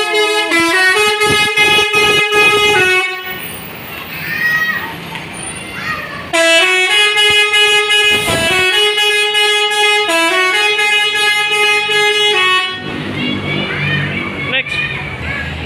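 Musical air horn on an Indonesian Basuri artist bus blaring a full remix melody in loud repeating phrases, with short pauses between bursts, amid a festive August Independence Day street crowd with talk and engine noise beneath.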